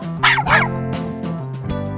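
Two quick dog barks ring out close together over a steady musical backing, then the music carries on alone.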